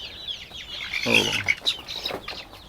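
Free-range village chickens on a small home farm clucking and squawking close by, with short overlapping calls and some background chatter.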